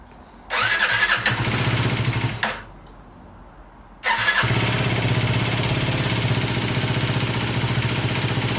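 An F.B Mondial HPS 125cc motorcycle engine cranks and catches briefly, drops off, then starts again and settles into a steady, close-up idle.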